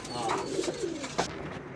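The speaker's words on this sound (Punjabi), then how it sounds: "ਇਹ ਚਿੱਟਾ ਕਬੂਤਰ ਆਇਆ" A white pigeon coos close by in a few soft, low, rounded phrases, with faint background noise.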